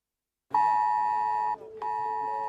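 The IT Alert public emergency alert tone from a mobile phone, sent during a test of the system in Veneto: a loud, sustained harmonic electronic tone that stops briefly, then resumes at a slightly changed pitch.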